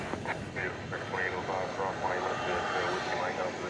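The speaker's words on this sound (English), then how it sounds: "It's American Flight 530. This will be an Airbus A320." American Airlines Flight 530, an Airbus A320 arriving at Dallas Fort Worth at night from Raleigh-Durham, gives a steady broadband engine roar under an announcer's talking voice.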